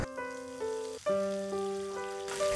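Two dried red chillies broken into small pieces and a few curry leaves fry in hot oil for a Kerala beef roast, giving a soft continuous sizzle beneath sustained musical tones.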